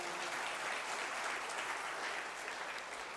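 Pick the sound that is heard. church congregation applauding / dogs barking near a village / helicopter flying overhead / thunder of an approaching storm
church congregation applauding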